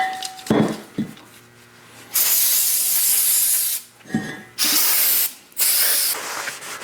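Brake cleaner sprayed onto new brake rotors for a 2010-2018 Toyota 4Runner in bursts of loud aerosol hissing, a long blast followed by two shorter ones, with faint metallic clinks between sprays.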